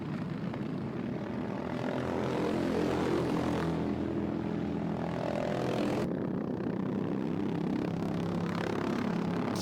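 Racing karts from a Sprint 390 race roar past side by side, a continuous buzzing engine drone that swells loudly and then shifts pitch as they go by, with no talking.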